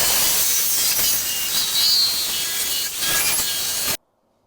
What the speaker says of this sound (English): I'm going to be using a diamond cut saw on the end of a drill